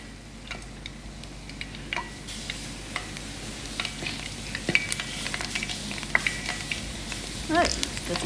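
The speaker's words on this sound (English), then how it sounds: "Trying to check if our oil is hot. It's hot already. About to fry my buns." Buns frying in hot oil on low heat, a continuous gentle sizzle and bubbling with scattered light ticks and clinks of utensils against the pot, close and moderately quiet.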